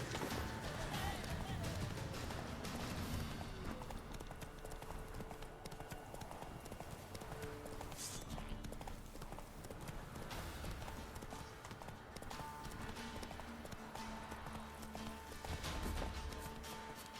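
Roach, a horse in Witcher 3, gallops with rapid, continuous clip-clop hoofbeats close by, running at a steady rhythm throughout.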